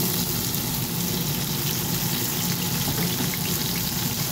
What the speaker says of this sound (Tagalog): So pag mainit na siya guys, ilalagay natin itong ating kamatis na malalaki.